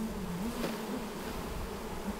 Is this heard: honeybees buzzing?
yes